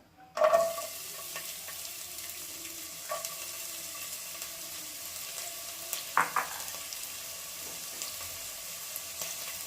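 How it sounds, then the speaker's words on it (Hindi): Bay leaf, cardamom and onion drop into hot oil, setting off a sharp burst of crackling sizzle, then a quieter steady fry with a second flare of spitting and utensil scrapes midway, close up with no talk. "अभी हम इसमें तेज़पत्ता डाल देंगे और इलायची, प्याज डालेंगे।"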